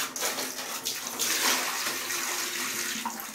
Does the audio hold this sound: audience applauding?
no